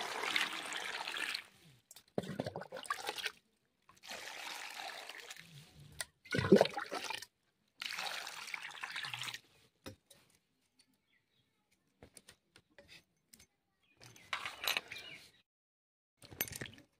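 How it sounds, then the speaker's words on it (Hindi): Tomatoes rinsed under running water at a kitchen tap: several separate gushes of splashing water, each lasting a second or two, broken by quiet gaps and small knocks, close and moderately loud. "तो चलिए सबसे पहले टमाटर जो है धो लेते हैं।"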